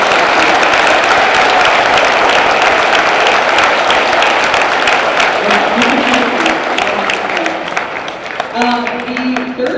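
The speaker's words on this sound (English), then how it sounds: "Let's have a round of applause." Dense, loud applause from an audience fills a school Veterans Day convocation in November 2018, tapering slightly near the end as a voice begins to speak.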